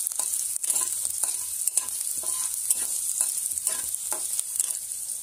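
Cumin and mustard seeds spluttering in hot oil with dried chillies and garlic, a constant bright sizzle dotted with frequent small pops and stirring taps, close up.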